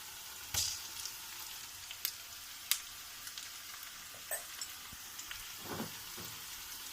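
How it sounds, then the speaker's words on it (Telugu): Ginger garlic paste with turmeric frying in a pan for cauliflower fry, a faint, soft sizzle broken by a few sharp spatula taps and scrapes as it is stirred. "పచ్చి వాసన పోయే వరకు కలిపేసుకుందామండి"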